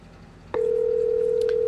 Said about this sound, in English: The warden is making more phone calls.